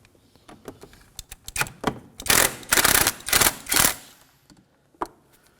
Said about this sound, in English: Using a 12mm socket and an extension, go ahead and take out this bolt.